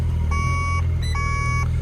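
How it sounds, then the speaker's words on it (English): An electronic warning buzzer inside a van that won't start, with a low battery, sounds as two clear, loud, evenly spaced tonal beeps over a steady low engine-like hum. "turn that buzzer off"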